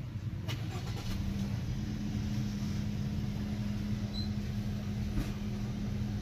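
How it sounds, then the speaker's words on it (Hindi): A 2016 Toyota Premio car engine just started and running at a steady idle, a constant low hum with a faint tonal whine and light clicks, heard close and without talking. "तो गाइज मैं आपको इस गाड़ी को स्टार्ट करके भी दिखा देता हूं।"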